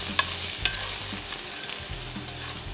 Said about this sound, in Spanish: Y vamos a comenzar sofriendo 2 dientes de ajo finamente picados, una pieza de cebolla blanca finamente picada, y vamos a sofreír por 1 minuto.